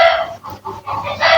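A chicken crows loudly and close by, breaking into several short bursts with brief gaps across the moment, rough and strained in tone.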